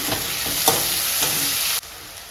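Steady sizzling of tomatoes sautéing in a pan, with a few soft stirring scrapes, continuous and close, cutting off abruptly near the end.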